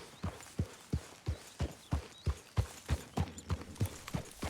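Horse hooves clip-clop in Red Dead Redemption 2 with a steady, even walking rhythm of distinct thuds, fairly close and alone.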